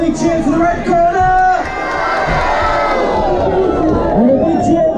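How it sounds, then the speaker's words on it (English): A boxing crowd at a white-collar fight night in Blackburn cheers and shouts for the red corner, a loud surge of voices and whoops sustained close-up for several seconds. "Let's have a big cheer for the red corner!"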